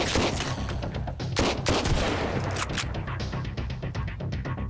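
Rapid gunfire in the survival video game Sunkenland, a dense run of sharp shots packed close together that carries loud and unbroken through the whole stretch, with no talk over it.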